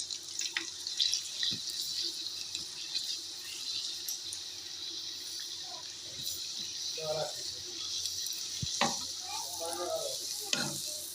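Aloo papad dropped into plenty of hot ghee in a pan sizzles with a constant fine hiss, broken by a few soft clinks and handling sounds. Close and moderate in level, with a brief murmur of voice.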